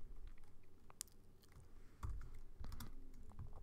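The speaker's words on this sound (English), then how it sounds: "So I'm going to type the float function and surround everything that the user has typed in" Quiet key clicks from a computer keyboard while Python code is typed, irregular taps and a couple of firmer knocks over a low background hum.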